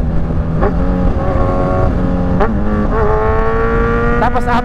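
A Kawasaki Z1000 motorcycle fitted with a quick shifter revs close by, with sharp throttle blips and quick pitch drops and rises as gears change, over a steady engine drone.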